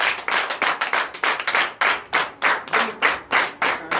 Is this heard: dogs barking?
no